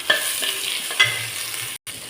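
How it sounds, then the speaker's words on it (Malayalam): Onion and tomato sautéing in hot oil, a steady close sizzle broken by a few sharp scrapes of a stirring spoon against the pan, with a brief dropout near the end. "ഉള്ളിയും തക്കാളിയും എല്ലാം നന്നായിട്ട് എണ്ണയിൽ വഴറ്റിയെടുത്തിട്ടുണ്ട്"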